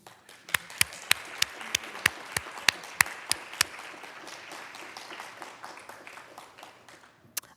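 An audience applauds award winners at a disability reporting awards ceremony, steady clapping swelling across the room with a series of sharp, loud claps near the front over the first few seconds, then settling into an even wash of applause.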